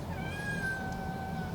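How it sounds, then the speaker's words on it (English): A cat meows in a long, drawn-out call that rises and holds, close by, with no talking over it. "What do you want, cat?"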